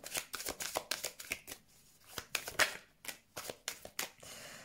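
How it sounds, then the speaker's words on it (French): Tarot cards being shuffled by hand, a series of quick crisp riffling bursts in an irregular rhythm, close and fairly quiet, no talk. "prendre quelques cartes"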